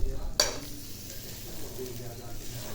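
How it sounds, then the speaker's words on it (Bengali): Fried bitter gourd tipped into cooking dal gives a short clink of a utensil at the start, then a soft, steady sizzle and stirring continue quietly. "এই যে দেখুন আমার ভাজা হয়ে গেছে গা করলাটা। এখন ডালের ভিতরে দিয়ে দিব আমি"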